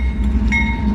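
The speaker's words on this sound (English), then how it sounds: "There we go, got two trains coming." A long freight train rumbles past under signals, a steady low rolling drone with a faint high whine, brief and fairly close.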